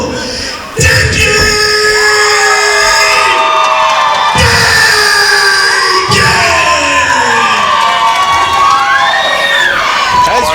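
A packed wrestling crowd at a PCW Limelight event cheers and shouts loudly throughout, with swelling whoops and yells, plus bursts of louder roaring at intervals.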